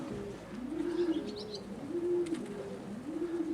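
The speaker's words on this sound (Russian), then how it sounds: "это краснопоясенькая голубя" Pigeons coo in a repeated rising-and-falling pattern, three or four clear phrases close by, over a steady rush of strong, gusty wind with a few faint chirps above.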